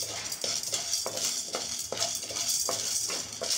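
Spices and ingredients for temple-style puliyodharai paste frying in a pan one at a time, with steady close sizzling broken by regular stirring scrapes and light clinks of a utensil against the pan.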